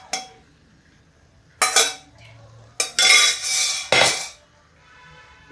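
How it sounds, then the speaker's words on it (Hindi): Dal tadka, a dhaba-style dal fry, stirred gently with a spoon in a pot, giving a few separate scraping, clinking strokes with quiet gaps between them and no talk. "इसको धीमे से हम चला देंगे कि दाल हमारी टूटे नहीं।"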